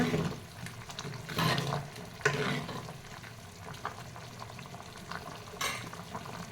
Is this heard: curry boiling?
yes